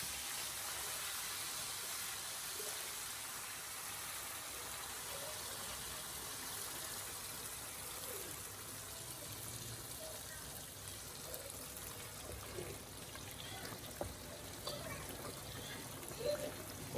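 Sarson ka saag (mustard greens) poured into a hot tempering gives a steady, moderately loud hissing sizzle that runs unbroken, with a few faint clicks and scrapes near the end.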